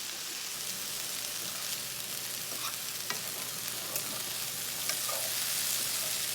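Frozen Aldi chicken lo mein sizzles steadily in a frying pan, with a few soft scrapes and clicks as it is stirred near the end; no one speaks over the constant frying hiss.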